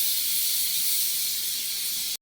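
A pressure cooker with chicken inside vents steam in one continuous, loud, airy hiss that lasts about two seconds and then cuts off abruptly.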